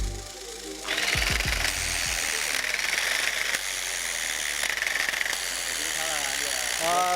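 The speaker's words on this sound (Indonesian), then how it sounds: "proses looming menggunakan alat modern yang biasa disebut tufting gun atau mesin tembak menang" A handheld tufting gun drives yarn into a carpet canvas in a carpet-making workshop, producing a steady, loud mechanical buzzing hum that starts after a brief pause and runs continuously to the end.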